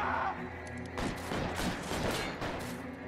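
Rapid gunfire in L.A. Noire, a dense, loud burst of overlapping shots and cracks over a rumbling background, continuing steadily throughout.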